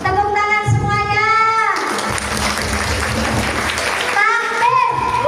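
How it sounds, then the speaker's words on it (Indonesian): Audience applause at an Islamic religious lecture marking Isra Mi'raj, a burst of clapping from the crowd lasting a couple of seconds between stretches of a woman's amplified speech. "Tepuk tangan semuanya."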